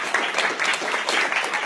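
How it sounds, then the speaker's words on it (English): Audience applause in a town hall meeting room, a dense continuous patter of many hands clapping at moderate volume. "So another round of applause for these two"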